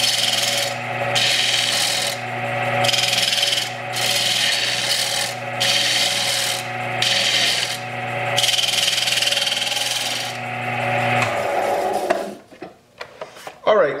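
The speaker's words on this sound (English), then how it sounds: "I have our stabilized, fossilized bread mounted to a faceplate, hot glued to the lathe" A wood lathe turning a stabilized bread blank hot-glued to a faceplate, a steady motor hum with repeated scraping, rasping cuts in regular bursts, close and loud, before the tool stops and the machine winds down near the end.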